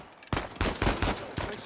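Gunfire in Uncharted 4, a quick string of four or five loud close shots in uneven rhythm, with no talking.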